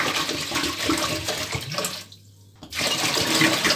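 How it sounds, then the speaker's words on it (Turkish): Water gushes loudly from one-litre bottles into a cooking pot of wheat for aşure, a steady close splashing pour with a short pause before the next bottle continues. "Aşureme ne kadar su koyduğum belli olsun diye böyle 1 litrelik şişelerle kullanacağım suyumu. Şimdi 2 litre su boşaltıyorum."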